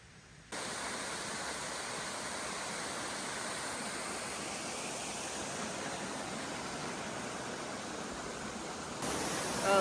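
Waterfall on the Webster Cliffs Trail in New Hampshire, a steady, loud broadband rush of falling water that holds constant throughout, close by and alone.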